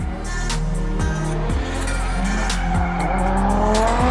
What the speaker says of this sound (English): Lads, this is a drift right now.